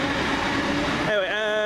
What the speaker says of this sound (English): 444013 with the 1214 Southwest train service to Weymouth from London Waterloo.